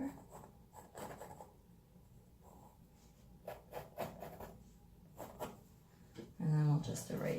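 A pencil sketches on paper in preparation for an oil painting, with soft scratchy strokes in short bursts, close and quiet, broken up by a voice.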